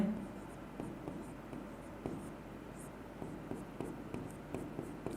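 Chalk or marker writing on a classroom board during a Rajasthan geography lesson, heard as a series of soft, short scratching strokes in an irregular rhythm, fairly close but quiet, with faint room noise between them.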